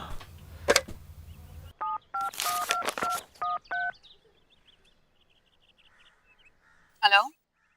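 A telephone being dialed indoors, a quick series of distinct keypad tones after a rustling start, followed by quiet and a brief sharp call or ring near the end; a voice is heard in the scene.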